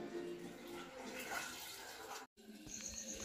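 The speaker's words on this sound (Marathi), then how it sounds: "तर आता इथं नळाला पाणी आलं होतं म्हणून मी इथं पाणी भरून घेतलं" Water runs steadily from a village tap, filling containers, with a hissing, splashing flow that holds close and continuous. A short break interrupts it before the flow resumes with faint clinks. Low, quiet level, no talk.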